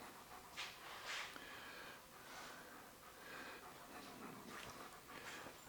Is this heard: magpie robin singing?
no